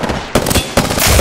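Rapid, very loud gunfire in a combat video game bursts in close, clipped blasts that land in several quick clusters with no pause between them.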